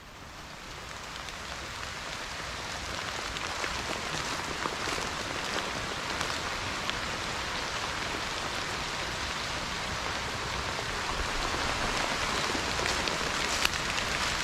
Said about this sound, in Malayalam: ഇപ്പം നല്ല മഴ പെയ്യുന്നുണ്ട്